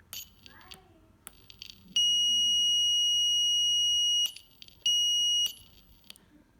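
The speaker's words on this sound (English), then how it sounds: "this was our alarm working system with the button" A loud, piercing electronic buzzer alarm, controlled by a Raspberry Pi and a button, sounds in two sustained bursts, the first about two seconds long, the second shorter, after some clicks.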